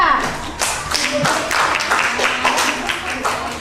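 Classroom applause for a student group: a steady wash of clapping from many hands runs through the whole stretch, fairly loud and close, with a few voices murmuring underneath.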